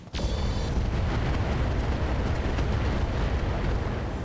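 A missile volley slams into a Rhino FST mech in the RogueTech mod of BattleTech, a sharp initial blast followed by a dense, sustained rumble of overlapping explosions, loud and continuous with no talk.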